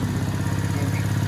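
Small motorcycle engine running outdoors at a steady idle, a rapid even putter with a light mechanical clatter, close and continuous with no voices.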